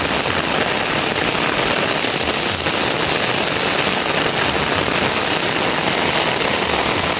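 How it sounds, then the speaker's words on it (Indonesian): Heavy rain pours steadily over rice paddies in the Indonesian countryside, a dense, constant hiss close around with no pauses and no voices. "Kita nunggu hujannya reda, tapi makin deras."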